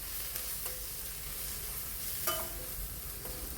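Spice powders frying on a low flame in a pan, heard as a steady close sizzle, with a few light scrapes of stirring here and there.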